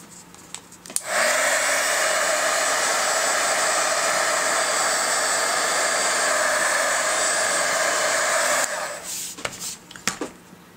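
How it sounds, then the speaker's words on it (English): A handheld heat tool blowing hot air to dry chalk paint on a craft piece, a loud steady whoosh that starts abruptly, holds evenly for about eight seconds, then cuts off, with a few small handling knocks around it. "I'm going to hit it with the heat tool"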